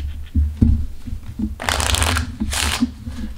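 Playing cards being shuffled by hand during a card sleight demonstration, with a couple of soft riffle bursts following a few light taps, close and clear with no talking.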